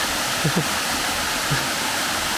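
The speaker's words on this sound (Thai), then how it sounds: "หนาวไม่พอต้องมาดูน้ำตกอีกนะ" A waterfall on the Kew Mae Pan nature trail gives a steady, even rush of falling water, with a few faint voices briefly heard under it.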